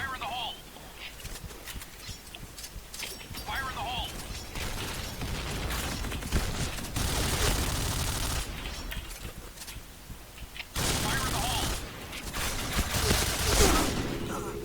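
Sniper rifle fire from the shooter game Point Blank, with sharp cracks and mechanical bolt clatter repeating through a busy, loud stretch while someone talks excitedly over the action.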